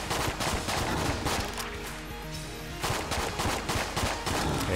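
Full-auto fire from the Betrayer's gun in Enter the Gungeon rattles in fast continuous bursts, loud and steady, pausing briefly midway before resuming.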